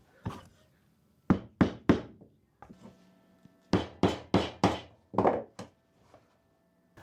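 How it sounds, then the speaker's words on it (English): Hole punch struck through leather while making a folding chair, a series of sharp thunks in two clusters, several quick blows in a row, close and clear in a quiet room. "I've got a hole punch, so now I can get holes punched on all my marks."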